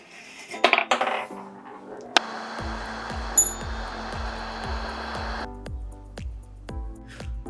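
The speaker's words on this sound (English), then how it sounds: "So I put the bell in place and tested it out." A homemade bell, freshly hung in place after metalwork with a blowtorch, rings out through several clear struck tones with rhythmic metallic clanks and clinks, plus a steady hiss of machinery in the middle.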